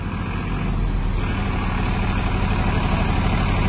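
A Farmtrac or Mahindra tractor engine runs at a steady pace, a loud, close, continuous low rumble with an even, throbbing beat and no talk over it.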